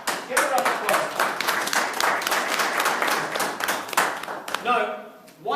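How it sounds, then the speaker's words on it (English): An audience at a presentation claps in a steady, dense round of applause lasting several seconds, then it thins out as a voice cuts in near the end. "This gentleman, give a round of applause."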